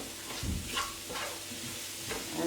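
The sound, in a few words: mushrooms and onion frying in pan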